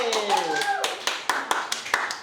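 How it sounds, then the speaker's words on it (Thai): Audience clapping at a Thai talk event about romance novels: a voice is heard at the start, then sparse, distinct hand claps ring out at an uneven rhythm, close and fairly loud. "ขอเสียงปรบมือให้กับ พี่จอ ย"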